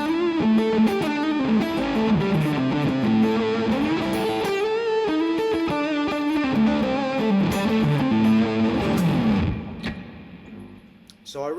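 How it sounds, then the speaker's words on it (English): Electric guitar on the neck pickup through a Beehive Wasp fuzz modeled on a Quad Cortex plays a continuous thick, saturated phrase with chords and lead notes, then fades briefly near the end. "You can hear all the fuzz going on in the background."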